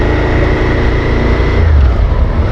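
A Suzuki SV650 motorcycle engine runs steadily while the rider changes gear, with a continuous mid-pitched drone whose tone drops and shifts partway through as the revs change.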